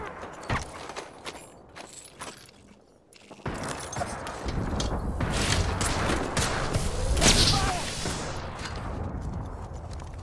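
Gunfire in a video game, scattered shots and rattling bursts at middle distance over mechanical clanks, steps and a dense rumbling battle din that swells midway.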